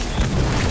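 Incendio fire spell blast in Harry Potter: Magic Awakened, a brief loud booming burst with a dense rumbling low end, filling the short moment alone.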